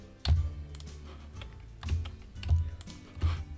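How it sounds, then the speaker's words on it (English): Computer keyboard keys pressed while holding the control key, several distinct clicky taps spaced irregularly, close and fairly loud with faint background noise between strokes. "hold each down each number down while holding the control key down on your keyboard"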